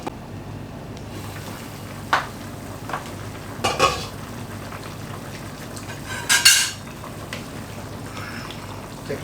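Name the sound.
covering pot of simmering pork rib sinigang with lid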